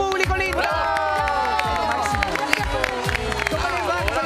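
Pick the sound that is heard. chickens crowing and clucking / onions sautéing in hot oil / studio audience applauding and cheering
studio audience applauding and cheering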